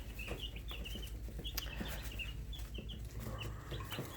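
Young chicks about eleven days old peep in a steady scatter of short, high chirps, close by and moderately loud over a low background hum, with no talking.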